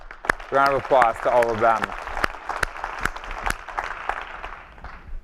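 An audience at a university course introduction breaks into applause, a moderate patter of clapping that starts under a speaking voice and carries on to the end.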